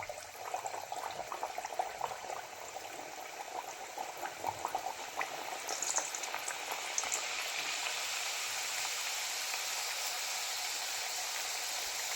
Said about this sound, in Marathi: हा तेल घालायला चालू आहे जेणेकरून पुऱ्या आपली पटकन फुगून वरती येईल